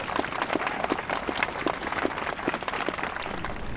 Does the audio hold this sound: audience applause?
yes